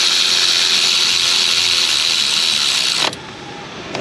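A ratchet threads bolts down during air conditioning compressor repair on a car, with quick, close clicking and mechanical rattling that cuts off sharply near the end, leaving faint background noise.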